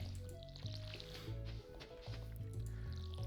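Watering can splashing water over crops in the farming video game Stardew Valley, a soft wet pour set against steady background game music, with no talking.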